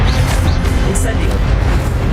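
Fiery spell blast in a wizarding video game, a sustained booming whoosh with a brief bright flare near the middle, loud and close, with other game sounds mixed in.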